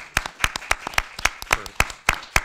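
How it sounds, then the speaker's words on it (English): A small audience at an evening program applauds, its claps landing close together in a brisk, fairly even rhythm that sounds like only a few hands. "we could just give them a round of applause"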